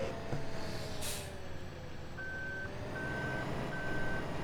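A truck in Farming Simulator 15 sounds a high, clean reversing beep three times in an even rhythm, clear and steady over low engine rumble, after a brief airy hiss.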